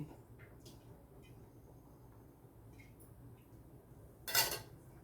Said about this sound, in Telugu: బాండి పెట్టేస్తాను